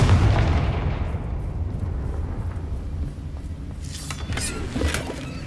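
A Confringo fire spell explodes in the video game Hogwarts Legacy, a loud booming blast at the start that rumbles and fades, with further bursts and crackles near the end.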